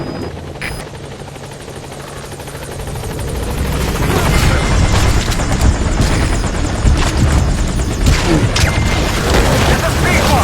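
A B-Quad helicopter in Metal Gear Solid V: The Phantom Pain descends toward a landing zone, its rotor roar building from a moderate hum to a loud, pulsing thrum with scattered thumps layered over it.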